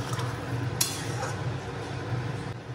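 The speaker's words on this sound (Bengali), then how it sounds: "এই যে এখন আমি ঢাকা দিয়ে দিলাম।" A metal lid is set onto a cooking pot of potatoes simmering in water, making one brief clink over a steady, low background hiss.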